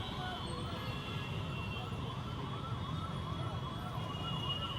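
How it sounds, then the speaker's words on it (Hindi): Ambulance siren wailing steadily in a Delhi traffic jam, with the rising and falling tone sustained throughout over dense, constant street noise and engine rumble. "अभी भी देखिए वो एम्बुलेंस फंसी पड़ी है।"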